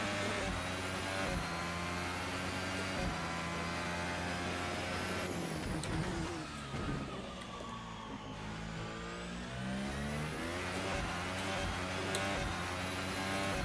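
Formula 1 car engine in a racing video game at the Chinese Grand Prix, screaming loudly and continuously as it accelerates, with rising harmonic sweeps through gear changes and a brief dip near the middle before climbing again.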